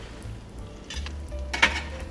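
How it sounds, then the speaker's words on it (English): Beignets deep frying in hot oil, a quiet bubbling sizzle with a few light clinks of utensils against the pot, close by and without talk. "Deep frying is like a real rush."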